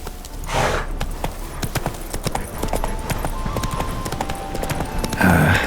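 Rhythmic clip-clop of a horse's hooves at a steady riding gait in The Witcher 3 video game, continuous and fairly close, with a brief swell of other game sound near the end.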